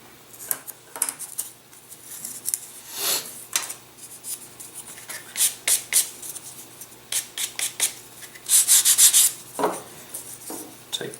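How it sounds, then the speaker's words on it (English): Scissors snip and rub through a model rocket fuselage sheet, cutting out a small pylon piece in a run of short, close crunching strokes with brief pauses, louder near the end, no talking. "we'll come over to our fuselage sheet and we'll cut out the pylon."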